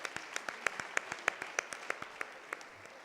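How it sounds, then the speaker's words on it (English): A small audience claps for Mrs. Eke at a session, with distinct individual claps ringing out in an uneven but steady rhythm over a soft background hiss. "Can we have another round of applause for her, please?"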